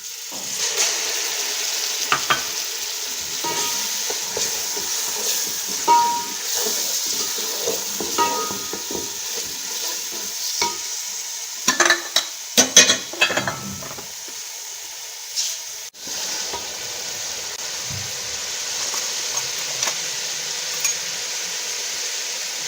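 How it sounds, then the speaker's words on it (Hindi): Tomato puree goes into a frying masala for aloo baingan, with a continuous soft sizzle under repeated scraping and stirring strokes, a few sharper spoon-on-pan knocks in the middle, and no talking. "अब मैं ये डालूँगी टमाटर प्यूरी"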